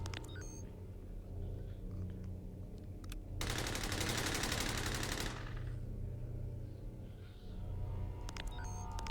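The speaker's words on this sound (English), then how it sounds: "So you command him to full auto the Watcher's arm" A burst of rapid, full-auto gunfire in the Lovecraftian RPG Paracom, a dense rattling volley lasting about two seconds over a low, steady game rumble, heard alone without talk.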